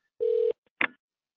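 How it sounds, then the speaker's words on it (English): Computer notification tone for an incoming phone call during an online presentation: a steady electronic tone lasting about a third of a second, then a short brighter blip, both close and clear with no talk. "Oh, we have a phone call coming in."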